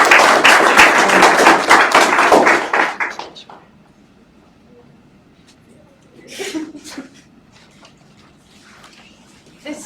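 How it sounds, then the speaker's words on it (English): Audience applause at a summer program presentation event, a dense burst of clapping for about three seconds that quickly dies away, followed by quiet and a short spell of talking. "Let's give everybody on this slide a big round of applause again"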